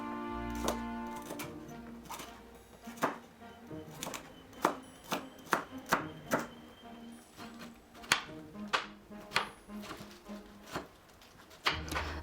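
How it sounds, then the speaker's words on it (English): A knife chops parsley on a cutting board in a run of crisp, evenly spaced taps, close and moderately loud, with a short scrape at the start and no talking. "Cut 10 grams of parsley into a bite."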